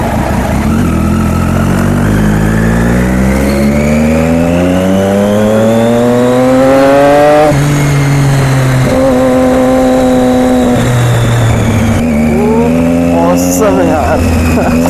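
A motorbike engine revs and shifts through rising then steady pitches, loud and close as the rider accelerates repeatedly, with wind rush over the ride.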